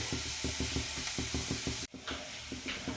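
Onions sizzle steadily in a hot pan as they are stirred, with a regular rhythm of scraping strokes under a bright, continuous frying hiss and a short pause midway.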